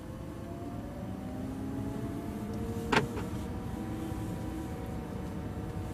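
Lamborghini LP570 Superleggera driving at low speed, a steady, moderate engine and road drone with faint rising tones and one brief sharp sound in the middle.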